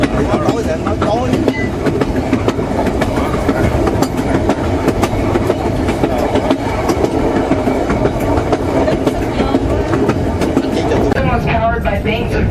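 Train running on the railway in Skagway, Alaska, with a steady loud rumble and rhythmic clickety-clack of wheels on the rails throughout, close by and continuous.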